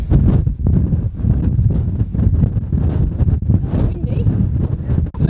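Strong wind buffets the microphone outdoors on a blustery day near rocks, a steady low roaring rush that persists throughout with brief dips, loud and close.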